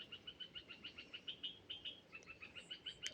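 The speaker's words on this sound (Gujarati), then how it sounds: "મિત્રો ચકલા" Sparrows chirp at a farm orchard in a steady run of short, bright repeated calls, clear and fairly close over a faint background, with no talking.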